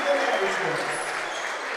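Mažeikiai fans at a BEKO-LKL basketball game against Pasvalys Pieno Žvaigždės applaud after a long-range basket, a steady wash of crowd clapping filling the arena under a commentator's voice.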